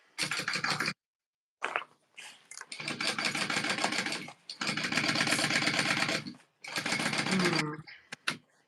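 Sewing machine stitching a seam on a Taylor Tote bag, running in several loud, close bursts separated by short pauses, with no talk over it.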